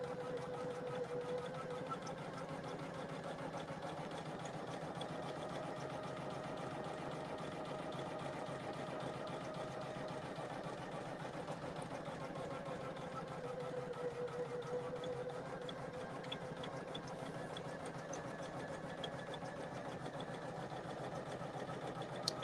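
A Poolin single-needle embroidery machine runs steadily, a continuous even mechanical whir with faint rapid stitching ticks, heard alone and fairly quiet.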